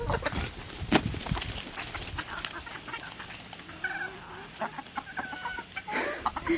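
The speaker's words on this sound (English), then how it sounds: "So I brought out some watermelon rinds for the chickens." Hens cluck and chatter softly nearby while eating watermelon rinds, over steady outdoor background noise, with occasional pecking and rustling sounds.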